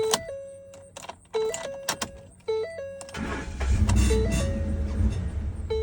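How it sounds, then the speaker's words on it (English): A Ford F150 Raptor with a faulty wire harness cranks repeatedly with the key in short whirring bursts and chimes, then catches into a rough, low rumbling run before faltering. "put the key in the ignition, and it dies out"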